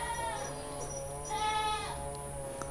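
A single Etawa goat at a livestock pen gives one faint, wavering bleat, with steady background noise around it.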